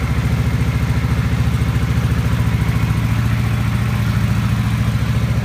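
A Kawasaki Vulcan VN750 motorcycle engine runs after a cold start with no choke, holding a steady, loud, close idle of rapid, even low pulses at around 1600 RPM.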